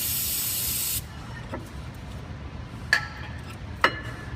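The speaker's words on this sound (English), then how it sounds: "I'm gonna take some brake clean and clean the rotors" Brake cleaner sprays in one loud, close hiss for about a second onto the brake rotors of a 2007 Dodge Charger SRT8 with Brembo brakes. A few light clicks and knocks follow against quiet garage background.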